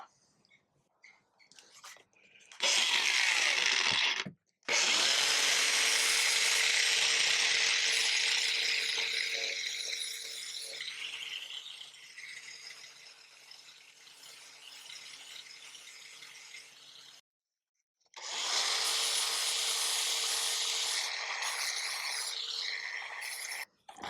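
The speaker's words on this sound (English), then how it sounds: "I'm just going to use a wee flappy disc on this angle grinder" An angle grinder fitted with a worn, old flap disc smooths a rough surface that will later be carpeted, giving a loud, steady abrasive whir in two long runs split by a brief pause, with a short burst at the start.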